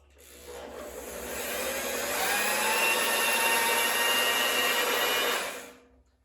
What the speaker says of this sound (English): start turning slowly with the drill, and it'll turn the hydrostatic motor over